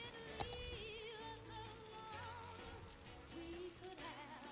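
Soft rain patters steadily in the background of a city-building video game, faint and even, alongside low humming tones.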